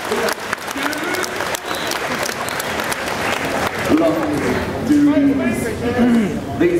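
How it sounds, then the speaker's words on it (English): A crowd at RuneFest 2011, a RuneScape fan event, claps steadily throughout, a dense wash of applause with voices and cheers mixed in. "Give yourselves a round of applause"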